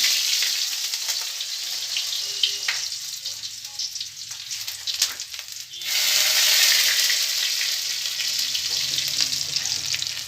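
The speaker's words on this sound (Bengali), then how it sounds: "তেল আমার গরম হয়ে গেছে আর এর মধ্যে কিন্তু আমি শুকনো লঙ্কা দিয়ে দিয়েছি আর দিয়ে দিয়েছি শুকনো রসুন" Dried chilies and garlic frying in hot oil, a loud continuous hissing sizzle that swells louder midway, close up, with no voices.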